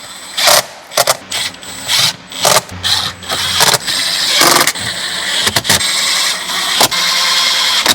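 A power screwdriver drives screws back into interior trim of a BMW 540i G30 during an A/C evaporator replacement, giving short whirring bursts separated by clicks and handling noises, close and fairly loud.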